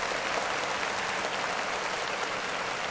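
Dense, continuous applause in a comedy-style online show episode, a steady wash of clapping at even loudness with no voices.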